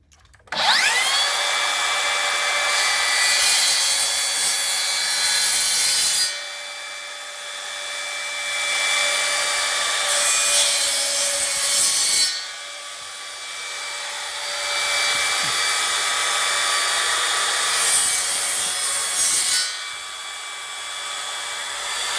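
A powered saw runs along a guide rail, cutting a board during a wet-area bath installation. A steady, loud motor whine holds for over twenty seconds, its pitch and level shifting as the blade loads and unloads.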